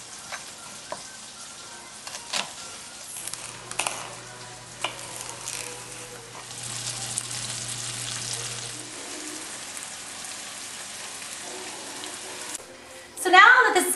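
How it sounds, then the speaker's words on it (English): Onions and green peppers stir-frying in butter for a Philly cheesesteak, a soft continuous sizzle with scattered clicks and stirring scrapes, a low hum partway through, and a louder clatter at the end. "It's going to be stir-fried onions and green peppers. We're going to put them in with some butter"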